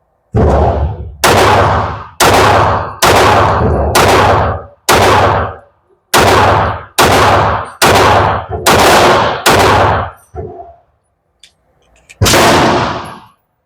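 An Alpha Foxtrot Romulus pistol fires a string of about a dozen loud, close gunshots with a 17-round magazine, spaced roughly evenly with a longer gap before the last shot.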